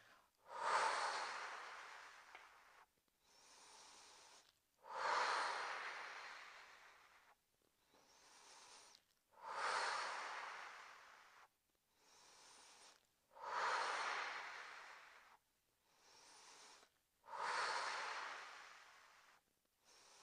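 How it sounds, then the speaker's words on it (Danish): Slow, controlled breathing during a Pilates exercise, long airy exhales alternating with equally long inhales in a steady repeating cycle, close and soft with quiet gaps between breaths. "så kører vi ud på en udånding, kommer tilbage på en lige så lang indånding"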